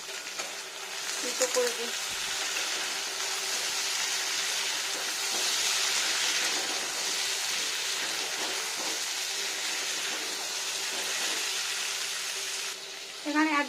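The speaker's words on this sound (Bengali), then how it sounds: "ঢাকা দেবো না, এভাবেই ফ্রাই হবে।" Green pumpkin fries uncovered in a pan, a steady, even sizzle that hisses on throughout, with a voice speaking briefly at the start and again at the end.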